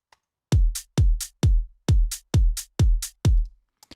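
Hi-hat sample pitched up three semitones ticks brightly between deep kick thumps, repeating seven times in an even loop, dry and up front.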